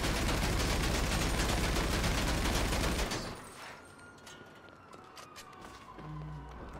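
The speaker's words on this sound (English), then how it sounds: "Yeah, the firework launcher, ladies and gentlemen." A firework launcher in the GTA V video game fires a dense, loud barrage of crackling blasts for about three seconds, then cuts to a quieter scene with a faint wailing police siren in the background.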